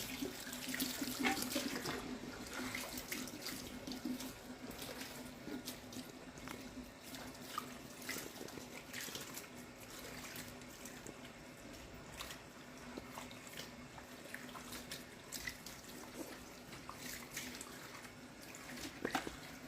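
Steady running water from a salon sink tap as hair is rinsed, a continuous broad wash of splashing flow that holds fairly even and close throughout, with no talking.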